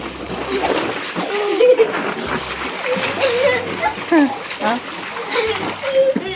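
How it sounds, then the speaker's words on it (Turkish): Toy water guns spray and splash water in a backyard pool during a children's water fight, with repeated close splashes and sloshing while kids shout and talk throughout. "Hadi su savaşı yapıyoruz. su savaşı."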